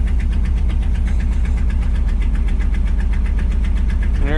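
A 1975 Ford F750 pipeline truck engine runs loud and close with its PTO engaged, giving a steady rhythmic knocking idle and vibration with no talking.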